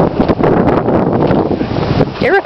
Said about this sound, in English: We are walking and it's raining and cold and windy.